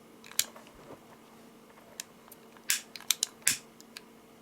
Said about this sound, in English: And now I will take the scissors, cut the nylon cord.